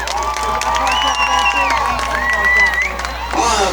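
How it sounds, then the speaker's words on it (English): A crowd at an all-star game awards ceremony claps and cheers, a steady sustained round of applause with shouts, while a voice speaks over it. "Give them a big round of applause."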